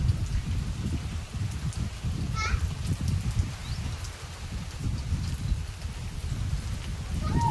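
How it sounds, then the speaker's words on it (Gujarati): Steady evening rain pours down in a Gujarat village, a dense broadband hiss with low rumble throughout, faint voices and a few birds chirping in the background. "આવો કંઈક વરસાદ આવે છે"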